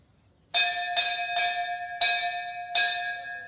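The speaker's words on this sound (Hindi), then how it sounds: "तीन मूर्ति भवन जो है घंटी के बजने के साथ ही खुलता है।" A bell at Teen Murti Bhavan, New Delhi, rings five times in a slow, steady rhythm, each strike bright and resonant with a lingering ring, no voices present.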